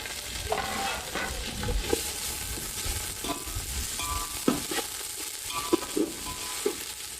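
Whole spices (cloves, cardamom, peppercorns and cinnamon) sizzle steadily in hot oil as tempering for a mutton curry, with scattered stirring scrapes and clinks and no talking.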